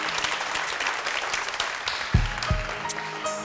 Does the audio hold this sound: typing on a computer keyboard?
no